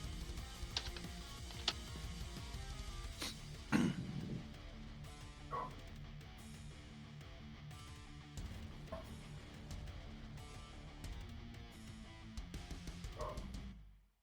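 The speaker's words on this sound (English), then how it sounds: "I hear a doggy." A dog barks a few times in the background during a tabletop Pathfinder game session, short yips spaced among music and room noise.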